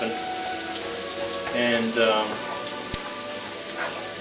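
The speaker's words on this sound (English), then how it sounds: "just continually stirring it so that way the onion starts to caramelize" Onions and bacon fry in a pan while being stirred constantly. A dense, rain-like sizzle runs throughout, swelling briefly as the spoon moves and ending with one sharp tap. One short spoken word comes near the start.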